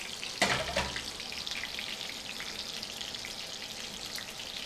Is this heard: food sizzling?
yes